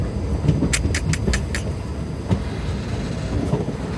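The Silchar to Sealdah express train running through scenic country, a steady broad rumble and rushing noise with a few faint clicks from the rails.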